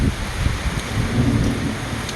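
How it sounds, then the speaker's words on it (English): Low thunder rumbles through steady rain as Tropical Storm Elsa arrives on the Georgia coast at Brunswick, a broad continuous wash of storm noise with no voices. "And it's amazing, there's actually thunder."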